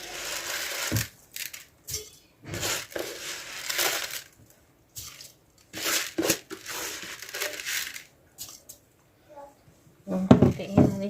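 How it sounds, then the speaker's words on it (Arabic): Egyptian rice poured into a pot over melted butter, several bursts of grainy rattling and crinkling close up, separated by pauses, with a brief clatter at the end. "هحط عليها الرز. رز مصري اهو."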